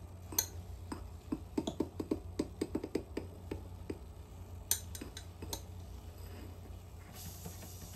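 A glass stir rod stirring an egg in concentrated hydrochloric acid, producing a quick series of sharp, light tapping clicks against glass, clustered then sparser, fairly close over quiet background.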